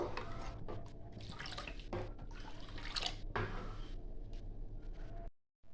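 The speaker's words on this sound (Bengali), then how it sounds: "দুধটা ভালো করে আমি ফুটতে দেবো" Milk, about three cups, heating to a boil in a pot for a Bengali sabudana fruit custard, with soft steady bubbling and dripping liquid sounds up close, a few sharper clinks, then a brief drop to silence at the end.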